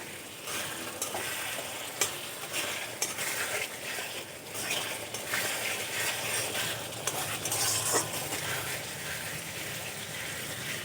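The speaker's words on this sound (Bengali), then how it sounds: "এখন আমি দিয়ে দেব কাঁচা লঙ্কা চেরা। মিশিয়ে আমি আরও কিছুক্ষণ ভালো করে কষিয়ে নেব।" Potatoes and spices sizzling in a pan with slit green chillies, stirred steadily with a utensil scraping and clinking against the metal, a soft continuous fry beneath.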